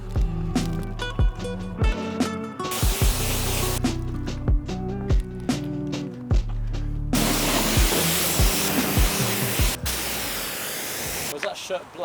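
Pressure-washer spray rinses a car's glass and panels side to side, a loud steady hiss broken by bursts and pauses as the jet moves, with a voice talking over it at times.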